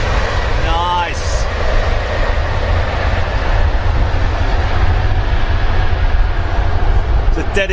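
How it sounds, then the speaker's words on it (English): China Southern Boeing Dreamliner jet at London Heathrow, a steady broadband engine roar that stays loud and continuous throughout, with faint chatter in the background. "Here's your China Southern Dreamliner."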